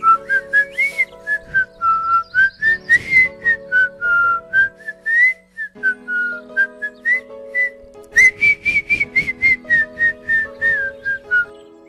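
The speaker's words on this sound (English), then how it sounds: "I can blow air and whistle" A person whistles a wandering melody with his mouth, loud and close, in short phrases with brief breaks, while soft sustained background music plays underneath.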